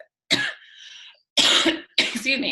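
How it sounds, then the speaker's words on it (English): A person coughs in three harsh bursts, one short hack followed by two longer, rougher coughs, close and loud with no other speech. "start coughing when I talk so much"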